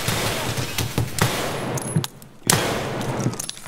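Rapid gunfire in a tactical shooter game, likely Rainbow Six Siege, dense close bursts with a brief gap of near-silence before the shooting resumes.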